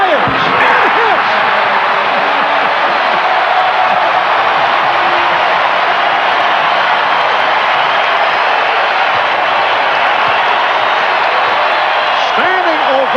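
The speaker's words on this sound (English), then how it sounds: "Standing ovation from this capacity crowd here at the Garden" A capacity basketball crowd at Madison Square Garden roars in a sustained standing ovation for the Knicks during a game against the Bulls, a dense, steady wall of cheering and applause that stays loud throughout.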